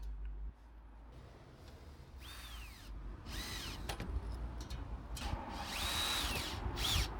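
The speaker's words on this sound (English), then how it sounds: "Next, I screwed in the inverted F-profile onto the wall." A power drill drives galvanized exterior-grade screws through an inverted F-profile into a wall, with short whirring bursts whose pitch rises and falls. Quieter gaps and faint handling noise fall between the bursts.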